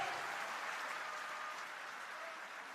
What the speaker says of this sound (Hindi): बहुत सारी तालियां एक बार फिर से होनी चाहिए श्री भगवंत मान जी के लिए।